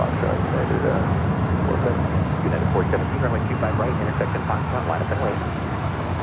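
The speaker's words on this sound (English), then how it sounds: "That was United Airlines Flight 2209 heading to Cleveland, Ohio, the 737-900ER." A United Airlines Boeing 737-900ER departs from runway 25 right at Los Angeles International Airport, producing a steady, loud jet engine roar throughout. Talk can be heard over the engine noise.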